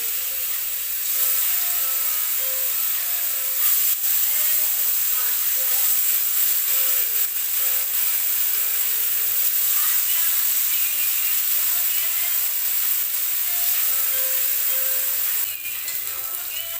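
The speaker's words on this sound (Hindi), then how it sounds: "ये जी हमारा ऑयल हो गया गरम। अब इसमें डाल देंगे ये एक पीस करके ऐसे डाल देंगे।" A piece of burger patty sizzles steadily in hot oil, a loud continuous frying hiss with crackles throughout, while a person talks over it.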